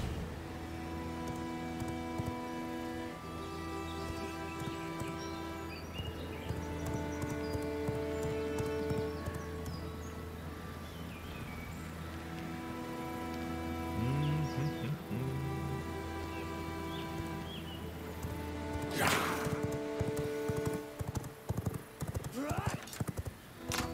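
A horse in the video game V Rising, trotting with steady clip-clop hoofbeats and a brief whinny over constant game music, with a person talking over it.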